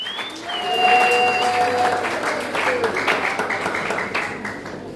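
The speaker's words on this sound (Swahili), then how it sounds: "Vichwa vishangilie Bwana Yesu kwa makofi" A church congregation applauds steadily for the Lord Jesus during a Swahili service, dense clapping filling the room throughout, with faint voices and a few high whistles or calls rising over it.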